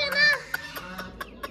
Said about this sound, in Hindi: डक ते मुर्गे दी लड़ाई हो गई सी